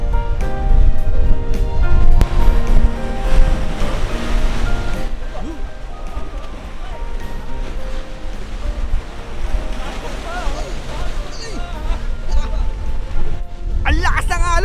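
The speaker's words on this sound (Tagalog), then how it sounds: "Ang lakas ng alon, nakatakot!" Strong sea waves crash and roll on a beach on Awaji Island, loud and continuous, with heavy wind buffeting the microphone and voices heard at times.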